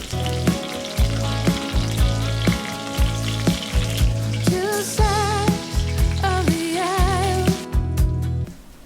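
Crushed ginger, garlic and green chillies fry in hot oil with mustard seeds for fried rice, a bright steady sizzle sitting under loud rhythmic background music.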